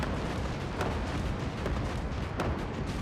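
A tank cannon in the Gates of Hell game fires in a dense, roaring barrage, several heavy booms landing close together over continuous rumbling battle noise.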